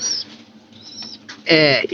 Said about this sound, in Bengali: আমার এই পাশের কবুতর গুলা একটু দেখার চেষ্টা করি যে এগুলা কি অবস্থা হয়েছে